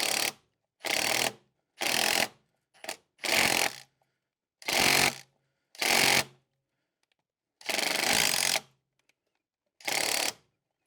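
A wrench works at a stripped Torx bolt on a rotten car part, giving about eight loud, harsh ratcheting bursts separated by short silences, each lasting under a second.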